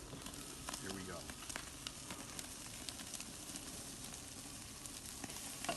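Sauced pork ribs sizzle over a hot fire in a low, steady crackling hiss peppered with sharp pops, heard at a moderate distance with no talking.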